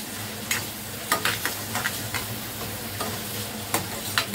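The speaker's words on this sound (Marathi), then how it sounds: "कांदा परतून घ्यायचं" Onion sautés in a pan, with a soft continuous sizzle broken by regular scraping stirs of a utensil, close and fairly quiet.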